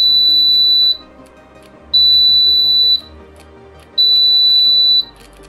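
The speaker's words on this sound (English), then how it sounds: "Once the wash timer completes, we can hear an audible alarm" An Anycubic Wash and Cure 2.0 wash timer alarm sounds three long, loud electronic beeps at an even pace, each about a second long with a second of quiet between.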